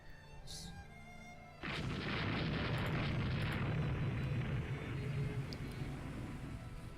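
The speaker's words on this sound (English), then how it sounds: "we hit a battle cruiser with a torpedo" Torpedo strike on a battle cruiser in the naval strategy game Rule The Waves 2, at night: a sudden loud explosion that swells into a long, roaring rumble and holds steady for several seconds, with no talk.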